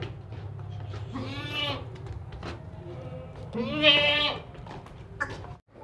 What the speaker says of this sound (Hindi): ये बकरी चेक करें भाई, बहुत ज़बरदस्त बकरी है।